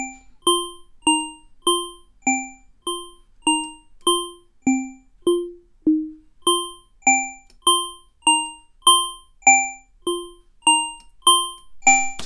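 A percussive, clockwork-like bell tone from an Alchemy software synthesizer repeats in a steady stream of about twenty short plucked notes, each decaying quickly, with the pitch stepping between a few values, bright and clean with no other sound.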